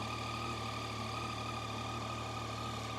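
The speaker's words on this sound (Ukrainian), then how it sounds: "Я зараз мотоцикл заглушу, щоб мене було краще чути." A Yamaha Tracer 900 motorcycle engine, 24,000 km on it, idles steadily nearby, a constant low throbbing hum with a faint high whine, and no voices.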